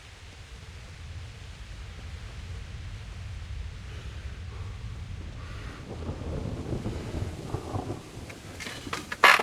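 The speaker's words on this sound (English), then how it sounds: "That was a clap of thunder, wasn't it?" Thunder rumbles low and distant in a medieval role-playing game, a soft rolling clap that builds gradually over a steady wash of rain or wind noise.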